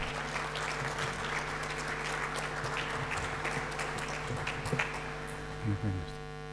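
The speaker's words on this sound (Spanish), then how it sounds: "un fuerte aplauso al licenciado César Ramiro Cladera González" Sustained applause from an auditorium audience at a university conference welcoming a guest speaker, steady clapping with a low hum beneath and a few brief voices near the end.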